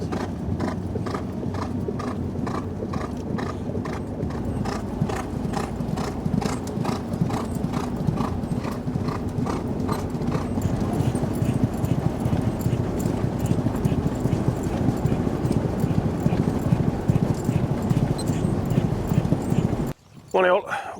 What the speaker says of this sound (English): behind is Zoology, just having a canter today